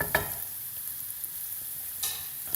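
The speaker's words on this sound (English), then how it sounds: "just let those guys sizzle along" Carrots and anchovies sizzle with cabbage in a pan over medium heat, a steady close frying hiss with a couple of sharper stirring clatters.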